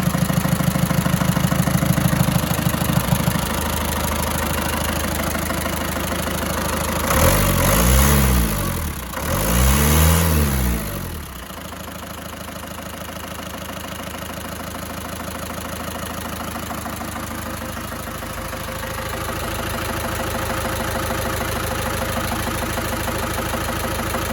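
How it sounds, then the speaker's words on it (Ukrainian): An old Ford Transit van engine running without its radiator, a loud, steady close idle with a couple of brief revs partway through before settling back to an even drone. "те, що він запускається, це вже є дуже добре. Поки що без радіатора, звичайно."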